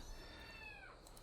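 A pet cat gives a single drawn-out meow with a falling pitch at the end, quiet and close against a low background hiss, with no voices.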